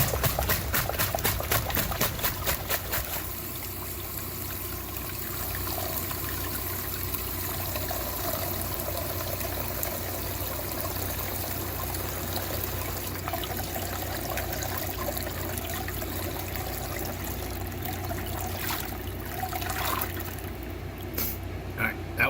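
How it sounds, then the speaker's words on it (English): Water drains from a check valve into an oil pan as a continuous close trickle and splash, steady for about twenty seconds, with a brief clatter at the start and no speech. "So we're going to try and get some of this water out with making as little mess as possible."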